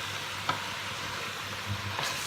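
Beef pieces with paprika, galangal, ginger and ground pepper being stirred in a pan for rendang, a steady close sizzle with a couple of soft scraping strokes of the utensil.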